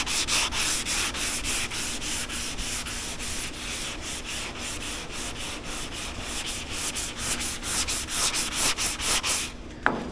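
Hand sanding glossy paint on the body of a 1995 Ford F Super Duty crew cab truck during restoration, a steady rhythmic back-and-forth rasping of sandpaper on the panel, close and loud, with no talking.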